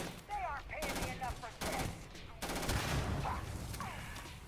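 Video game gunfire: repeated bursts of rapid shots, loud and dense, with brief gaps between volleys and busy game sounds underneath.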